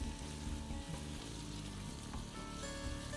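Zucchini and onion cooking down in butter in a pan, a steady dense sizzle that stays even and close with no voices over it.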